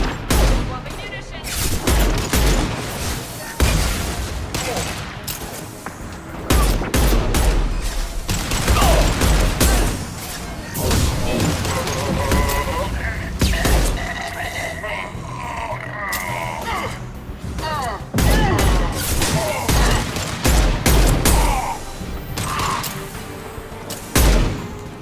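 Dense, sustained gunfire bursts from a Mass Effect 2 combat scene keep crackling across the whole stretch, with shouted voices and combat chatter mixed in over the shooting.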